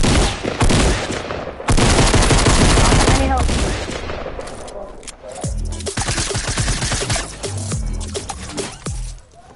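Video-game gunfire rattles in loud, close bursts of rapid shots, with short pauses between volleys and a denser stretch of sharp single cracks toward the end.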